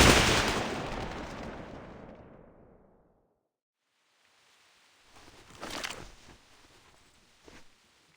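A firing squad's single rifle volley in a video game, a loud sharp crack with a long decaying echo, followed by silence and then faint scattered movement sounds.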